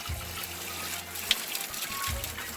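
Spring water flowing outdoors at the Guzoluk spring, a steady gushing rush with some irregular splashing and a few low gurgling pulses, close and continuous with no talk.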